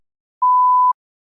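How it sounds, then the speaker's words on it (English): One clear, sustained electronic tone of about half a second, alone with silence before and after. "Please begin speaking after the beep."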